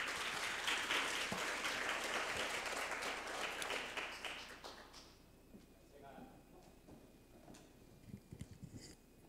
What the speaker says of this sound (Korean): 신교주님을 박수로 모시겠습니다.